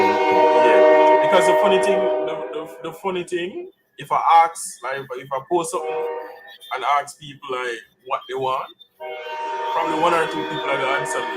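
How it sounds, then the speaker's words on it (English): A passing train sounds its horn loudly at the start and again near the end, long sustained tones surrounding a stretch of close talking in between. "Sorry for the train, guys."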